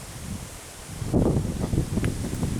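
Strong wind gusts outdoors on a breezy day, buffeting the microphone with rough, rushing noise that swells partway through and stays loud to the end.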